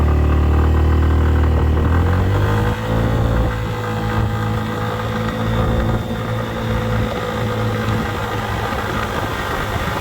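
A bus converted into a camper van pulls away from a standstill at full throttle, its engine roaring loud and steady with pitch rising through a gear change, running continuously with no talking.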